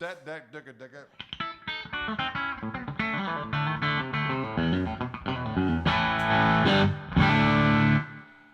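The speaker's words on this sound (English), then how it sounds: "I'm going through the super reverb today for the hell of it, and I got my pedal board hooked up" An electric guitar plays through a Super Reverb amp and pedal board, with a run of distorted, effect-laden notes and chords that builds into sustained, ringing strums, loud and up close.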